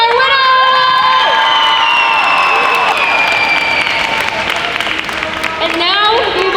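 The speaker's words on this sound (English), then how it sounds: "Let's do one more round of applause for our winners!" An audience at a school event claps, cheers and whoops loudly for the winners, a close, dense roar of hands with shrill youthful shouts and squeals weaving through it.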